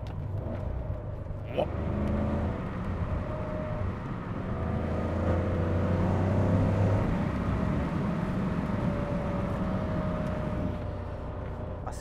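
Porsche 928 GT engine pulling hard at high speed, around 285 km/h, a loud, steady, droning roar heard from inside the car that holds for the whole stretch, with someone talking over it.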